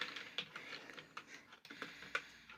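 Fingers tap quickly on a computer keyboard while typing a profile name into PVC card maker software, a quiet, irregular run of light clicks heard alone.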